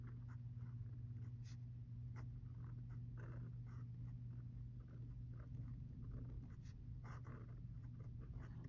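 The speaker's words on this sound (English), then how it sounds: "Let's do a little bit of pressure here as I write." A Sailor Pro Gear Slim Mini fountain pen scratches across paper under firm pressure, faint intermittent strokes over a steady low hum.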